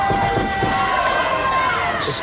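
A wrestling crowd at an NWA TNA show in 2002 roars and cheers loudly and continuously, with scattered shouts in the dense arena noise and a commentator's voice running over it.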